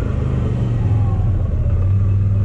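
CFMOTO ZForce 800 Trail side-by-side off-road vehicle, a 2019 model, driving with a loud, steady low engine rumble and drone heard from on board.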